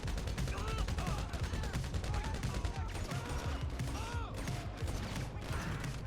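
Rapid automatic gunfire rattles in dense, continuous bursts during a GTA Online shootout, loud and close with faint voice-like sounds in the mix.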